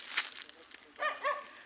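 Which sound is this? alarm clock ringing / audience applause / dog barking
dog barking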